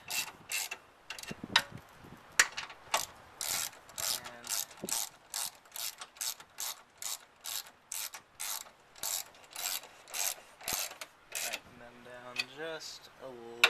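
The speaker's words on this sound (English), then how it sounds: "And I'll get my ratchet." A ratchet clicks in steady rapid bursts as it tightens bolts on the passenger motor mount of a 2005 Ford Focus, each burst of crisp ratcheting close and repeated many times through the stretch.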